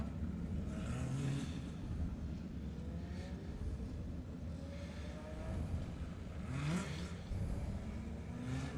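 A midget race car engine revs as the car is push-started during a race, the note rising and falling at a distance beneath steady broadband crowd and track noise.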